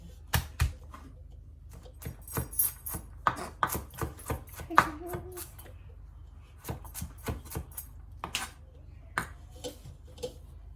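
A knife chops garlic on a cutting board in quick uneven bursts of sharp close taps, with a brief pause midway before the chopping resumes.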